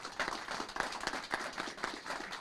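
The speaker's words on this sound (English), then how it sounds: "if we could please give them a big round of applause" Applause for guests at a city council meeting, with steady rhythmic clapping from a room of people filling the whole stretch, fairly close and loud.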